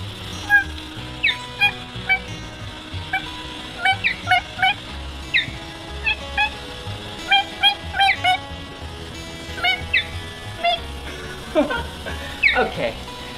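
Children and adults mimicking bird calls together, a string of short high squawks and chirps repeating in quick bursts with voices chiming in between, over a low background hum.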